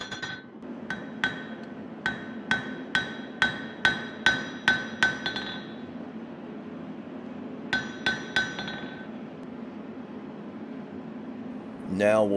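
Hammer blows forging a steel knife blade preform ring out in a steady run of about a dozen sharp metallic strikes, a pause, then a short second burst, over a constant workshop hum.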